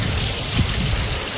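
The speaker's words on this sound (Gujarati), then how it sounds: "ફાઇનલી વરસાદ આવી ગયો છે" Heavy monsoon rain pours down in Gujarat, a loud dense hiss with a low rumble beneath, steady and close with no voices.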